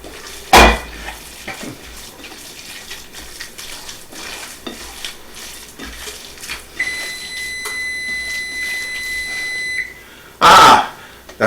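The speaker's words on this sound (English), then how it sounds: "Ah, that's my alarm telling me that the oven's preheated." An oven's preheat alarm sounds a steady electronic tone from about 7 to 10 seconds in a home kitchen while meatloaf is prepared, amid quiet clattering and a couple of sharp knocks nearby.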